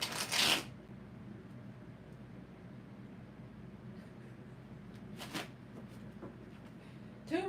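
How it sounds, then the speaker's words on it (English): A deck of tarot cards shuffled during a reading, a brief crisp riffle at the start, another soft burst midway and a short one at the end, close and fairly quiet over low room hiss. "Two more shuffles."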